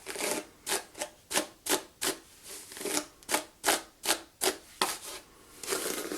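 Betty Brush hairbrush pulled through hair, about a dozen regular bristly strokes in a steady rhythm, close and moderately loud with short gaps between passes.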